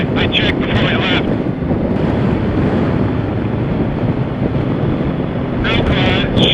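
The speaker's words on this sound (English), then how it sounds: "The wind's like 95 miles an hour." Strong wind of roughly 95 mph buffeting the microphone while riding a motorcycle: a constant loud roaring rush with heavy low-end rumble that stays steady throughout.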